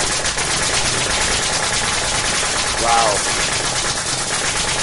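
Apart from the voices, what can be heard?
nail gun shooting nails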